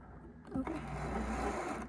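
A sewing machine runs in a short burst, a quick, steady mechanical stitching close by, as it sews a crocheted prom dress.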